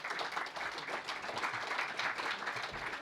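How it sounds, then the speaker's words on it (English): An audience gives sustained, even applause for a visiting university professor coming up to speak, a dense clapping wash at moderate distance with no talk over it. "Give him a round of applause."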